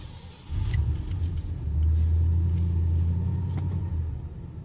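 A car engine cranks and catches with the choke set, a jangle of keys, then a low steady idle rumble that holds for a few seconds, close and fairly loud.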